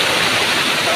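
Stream water rushes in a continuous loud torrent on a rainy day, a steady broadband roar with no pauses across the whole second.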